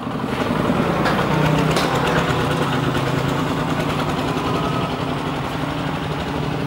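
A small machine engine runs steadily at close range, giving a loud, even idling drone with a constant mechanical hum and slight vibration throughout, with no voices.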